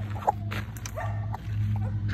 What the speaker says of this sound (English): There's another dog out there.